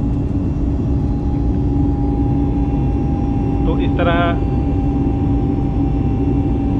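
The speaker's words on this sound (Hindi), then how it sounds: "इंजन की आवाज़ से पता चलता है।" Airliner engine drone heard from inside the cabin during a flight out of Jaipur, a steady loud hum with a constant tone throughout, while a voice speaks briefly over it.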